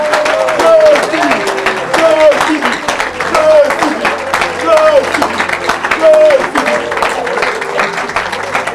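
A church congregation claps and cheers in a sustained burst of crowd applause, with a loud voice speaking over the clapping throughout.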